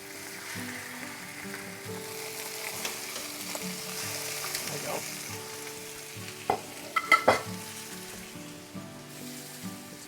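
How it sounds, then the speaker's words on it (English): Pork chops sizzle steadily in hot oil in a pan, a soft continuous frying hiss with a few sharper pops and crackles near the end. "we're going to put these pork chops on probably for about 7 minutes total on one side"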